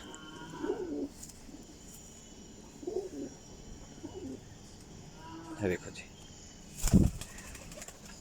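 High-quality flying pigeons coo softly and burst into flapping wing flutters several times, close by, with someone speaking briefly between the sounds.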